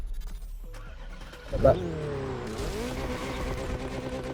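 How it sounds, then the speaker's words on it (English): A touring car in The Crew Motorfest racing game starts up with a loud burst, then settles into a steady engine drone that rises in pitch as it pulls away, with a brief spoken remark over it. "So we'll take the touring car out."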